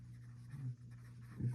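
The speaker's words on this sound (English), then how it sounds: "Then I'm just going to write VY equals 15." A pen writes a short physics equation with a few soft strokes, faint and close, over a steady low electrical hum, with no talking.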